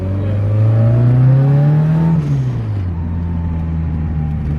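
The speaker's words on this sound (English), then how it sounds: "It's got that like big turbo sound" A turbocharged Toyota Starlet engine running 22 psi boost revs up with a rising whine, then eases off into a steady droning hum, loud and close.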